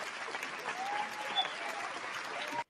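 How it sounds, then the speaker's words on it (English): Sustained audience applause on a talk show, an even dense patter of many hands with faint voices mixed in, which stops abruptly. "Let's give her a round of applause."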